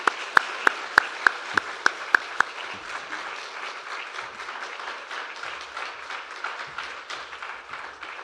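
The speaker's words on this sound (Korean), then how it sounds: "우리 올라오실 때 우리 박수로 환영하도록 하겠습니다" A church congregation at a Friday prayer meeting applauding to welcome a church elder to the stage, opening with several sharp loud claps, then sustained crowd applause that gradually thins.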